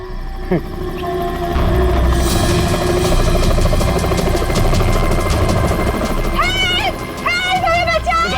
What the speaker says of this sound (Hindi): सर लगता है ये रेस्क्यू टीम का चॉपर है जो हमें बचाने के लिए आया है।